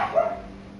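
A pet dog gives a short single bark in the background, close but brief, with no talk over it.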